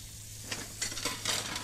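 In the horror video game Emily Wants to Play Too, dishes are washed in a sink with a steady rush of running water, broken by clinking and scrubbing bursts, close and continuous with no talk.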